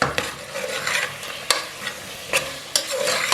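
Potatoes frying on high heat for a masala aloo pulao, a loud continuous sizzle broken by several sharp clanks of a spatula striking the pan.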